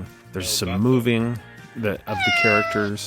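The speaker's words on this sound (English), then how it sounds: "you can hear things like a cat meowing." A cat meows in an Adobe Aero augmented reality scene, a few clear close meows sounding alongside someone talking.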